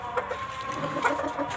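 Backyard chickens cluck softly, among them young multicoloured birds about four months old. Short, close clucks repeat over a low farmyard background.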